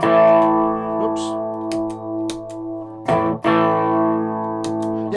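Electric guitar played through a cheap £1.82 Temu distortion pedal set near minimum gain, sustained chords ringing with a light crunch and effects coloring, steady and close with a brief break near the end.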